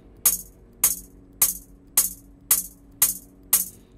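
Bright hi-hat hits, seven evenly spaced sharp metallic ticks each trailing into a short delay echo, over a faint low background hum.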